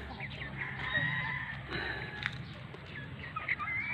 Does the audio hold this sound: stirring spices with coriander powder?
no